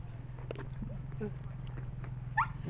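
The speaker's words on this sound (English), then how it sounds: "No, there is a stranger dog." An unfamiliar dog barks a few short, scattered times at a distance near a pond, over a steady low hum, with faint voices in the background.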